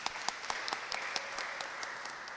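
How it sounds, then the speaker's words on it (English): Applause for students at a press conference: scattered hand claps of modest size, fairly quiet and steady for a couple of seconds, with no talk over them. "So I'd like to say a round of applause for those students that are doing something different."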